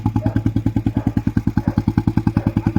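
A Bullet motorcycle engine idles nearby with a loud, steady, evenly spaced thumping beat, deep and rhythmic, with a light mechanical clatter on top.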